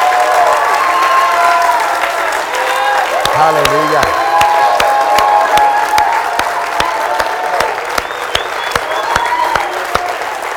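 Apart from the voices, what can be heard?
congregation clapping hands in worship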